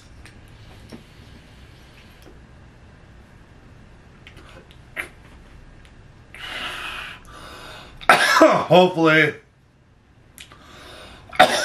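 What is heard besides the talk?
coughing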